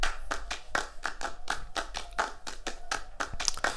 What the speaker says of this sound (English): So that's the claps, and that's just me going.